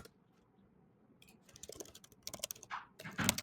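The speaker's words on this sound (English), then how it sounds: "I'm going to type in like custom basketball gift or something" Someone types on a computer keyboard, a quiet, close run of irregular key clicks that grows busier after a near-silent start.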